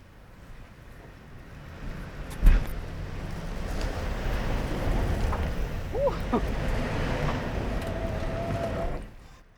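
A 2021 Toyota 4Runner on Falcon Wildpeak AT3W all-terrain tires climbs a steep, loose dirt hill, its engine note rising into a sustained drone under heavy wind buffeting, with a sharp knock early and the noise cutting off abruptly at the end.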